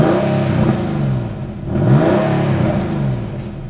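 A Porsche 993-generation 911 engine starts and revs, rising and falling in loud, close pulls with a mechanical clatter under the steady idle between blips.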